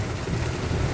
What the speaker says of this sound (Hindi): यहाँ पर बड़ी ज़ोर से बरसात हो रही है